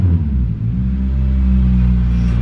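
A 2000 Toyota Celica GT-S engine idles with a loud, deep, throaty rumble, the raw blatty drone of a partly ripped-off exhaust, steady and close.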